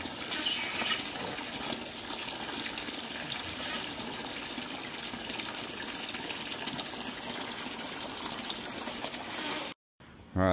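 Water poured over an aquarium pump to prime it, a steady rushing gush of liquid that runs continuously before stopping abruptly near the end.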